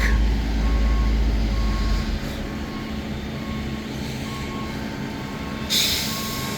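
An asphalt paving truck reverses on a residential street repaving job, its steady backup beeper pulsing over a diesel engine rumble, with a brief hiss of air brakes near the end.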